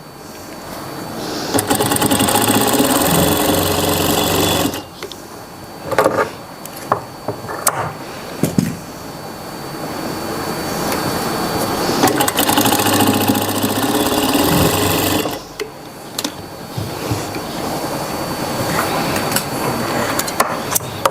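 Sewing machine stitching gum piping onto a Punjabi suit, running in loud steady bursts with short pauses between the stitching runs, with no voices.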